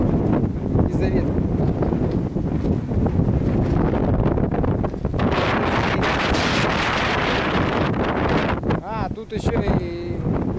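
Strong wind gusts buffet the microphone near a lake, Lake Kolyvanskoe, a loud steady roar with rumbling bursts throughout; faint speech may sit beneath.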